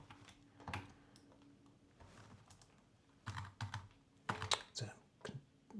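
Computer keyboard typing comes in short bursts of close, sharp keystrokes with pauses between groups, getting busier toward the end, with no speech in between.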